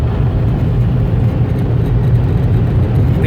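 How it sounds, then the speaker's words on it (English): Belanger car wash dryers at a gas station car wash in Ashburn, Virginia, blowing as a loud, steady low roar of rushing air with a constant whir, close by and alone. "So here are the Belanger dryers."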